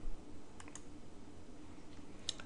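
Faint, quiet clicks from a computer mouse, a couple of soft taps early and another pair near the end over low room hum, with no talking.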